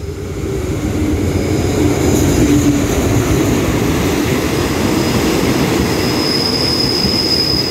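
Ordinary train 255 at Ban Pong station in Thailand rolls past loud and close, a continuous heavy rumble of railcars with a long high wheel squeal running through it.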